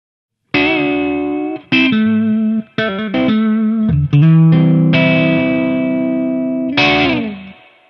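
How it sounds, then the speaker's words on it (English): Electric guitar played through an amplifier with a low reverb setting: a short riff of distorted, sustained chords and single notes with brief gaps between phrases, close and loud, with only a light tail after each note. "Here's a low reverb setting."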